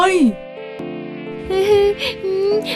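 A cartoon mosquito buzzes in a high, whining drone that wavers and bends in pitch, sustained throughout at fairly close range.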